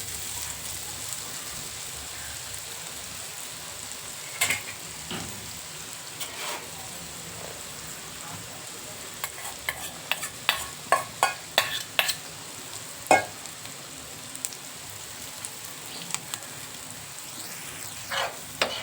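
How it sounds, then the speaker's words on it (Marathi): Stuffed bitter gourds and masala fry in oil in a pan, giving a steady close sizzle broken by scattered clicks and scrapes of stirring, with no talking. "जो आता आपला मसाला होता ना, तो पण आपण इथं तेलात एका साईडला कारली करून इथं छान असा फ्राय करून घेऊया."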